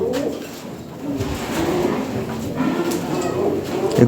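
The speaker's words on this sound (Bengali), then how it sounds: "কঠিন কবুতর ভাই" Caged fancy Lahore pigeons, a male and a female, coo in low, rolling, repeated phrases over a few seconds, close by and without speech.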